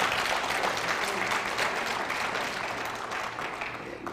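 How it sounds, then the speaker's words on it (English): Audience applause during a lecture, a crowd clapping continuously and fairly softly, tapering slightly toward the end. "yes, you can clap for that"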